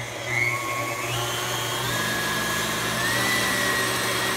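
A kitchen mixer whipping cream into homemade butter runs with a steady, loud electric whir, holding an even drone throughout with no talking.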